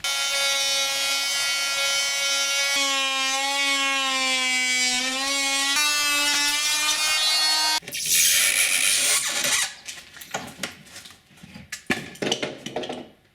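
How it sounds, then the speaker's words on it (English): An oscillating multi-tool buzzes with a steady high whine for several seconds, then bites into wooden door frame trim with a louder, rough, rasping cut that stutters and stops, close by and without talk. "I'll take care of these angles now with the oscillating tool"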